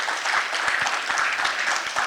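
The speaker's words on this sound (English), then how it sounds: "Please give a big round of applause to all our knowledge sharers." Brief audience applause after a presentation, a steady patter of many hands clapping at moderate level for about two seconds, with no speech over it.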